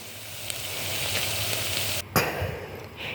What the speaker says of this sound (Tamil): ஏற்கனவே கரைச்சி வச்ச புளி தண்ணியை ஊற்றிட்டேன்.